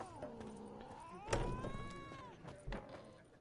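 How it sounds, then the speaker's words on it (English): A cat in the video game The Witcher 3: Wild Hunt meows in drawn-out, wavering cries over low game ambience, with a thump partway through. "That cat's got an attitude."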